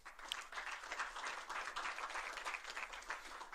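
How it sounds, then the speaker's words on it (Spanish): Applause from the audience at an electoral oversight forum panel, a continuous patter of clapping heard fairly faintly and evenly across the few seconds. "Un aplauso, por favor."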